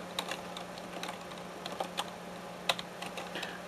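Keys clatter on a computer keyboard as a command is typed, quick irregular taps close by, light and crisp over a faint steady hum, with no voices.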